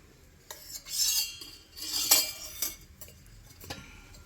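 A spoon stirs jaggery sheera with ghee in a pan, making several close, soft scraping swishes and metallic clinks in irregular bursts. No one speaks.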